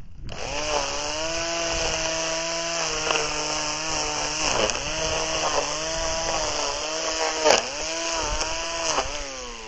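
A small Einhell mini grass trimmer whines steadily at high pitch while cutting weeds outdoors near a little olive tree. The motor pitch dips a few times as it bites into growth, loud and close throughout.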